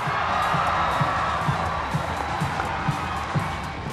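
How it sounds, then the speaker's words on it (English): A basketball crowd roars and cheers after a three-pointer in an AirAsia ABL game featuring the Brunei Barracudas, a sustained loud wash of arena noise with rhythmic claps or chants pulsing through it. "A three by Tolomia got the crowd going again."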